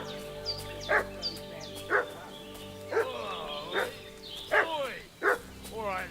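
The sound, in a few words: dog barking in Kingdom Come Deliverance 2 video game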